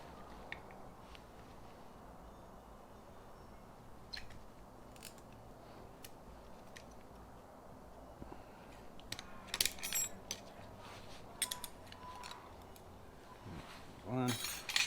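Metal snap rings being worked out of an R150 manual transmission during a 2WD to 4WD rebuild: sharp metallic clicks, clinks and snaps, sparse at first, then denser bursts toward the end, close and fairly quiet.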